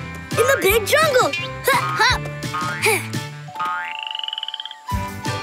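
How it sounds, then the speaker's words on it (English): Little cartoon frogs croak in a jungle setting, a run of bouncy, pitch-sliding croaks followed by a quick trilling ribbit, loud and close with brief chimes. "These little frogs really stand out in the big jungle."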